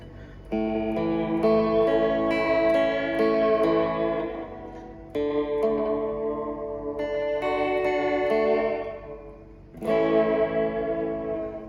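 Sustained electric guitar chords through a Fender Reflecting Pool delay pedal, echoing repeats trailing behind each strum, played in three phrases, effect-heavy and close, no voices.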